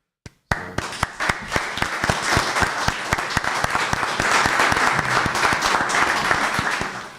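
Applause breaks out at a city commission meeting, a room of people clapping steadily with sharp individual claps audible, starting abruptly after a brief tap and holding at a strong, even level.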